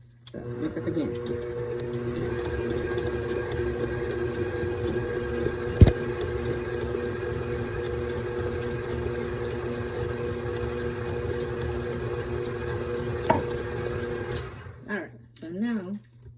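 An electric mixer whirs steadily, mixing a thick cake batter made with Dr. Pepper, for about fifteen seconds before cutting off near the end.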